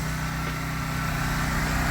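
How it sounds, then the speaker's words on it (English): A pressure washer engine runs at full throttle during house washing, a steady, loud, close mechanical hum with a constant pitch throughout. "We got the revs turned all the way up."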